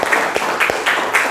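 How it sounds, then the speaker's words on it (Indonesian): Students in a classroom applaud together, a steady wash of clapping running the whole time with a few louder swells, close and fairly loud. "tepuk tangan untuk kalian semuanya"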